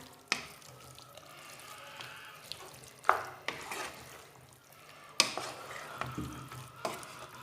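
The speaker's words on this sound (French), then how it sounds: "Donc je mélange, je vais couvrir et laisser cuire à feu doux." A tourte filling is stirred in a frying pan over low heat, giving soft scraping and sizzling with a few sharp clinks of the utensil against the pan. The stirring sounds close and moderately quiet, with no talking.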